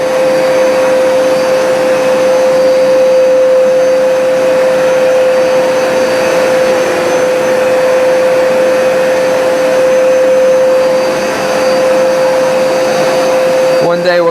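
A Hoover SmartWash carpet washer runs at close range for the whole stretch, with a loud, constant motor roar and a steady high whine that holds without a break.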